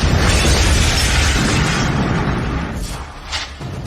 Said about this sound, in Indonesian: Kakek, itu ledakan.